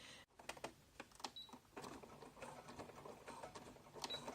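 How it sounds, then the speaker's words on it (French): A sewing machine stitches a fabric flap for a Filbox minaudière bag, sewn right sides together 1 cm from the edge along the presser foot, running in close steady bursts of needle clatter with brief pauses, alone. "Et donc je couds en suivant bien donc mon pied de biche le long"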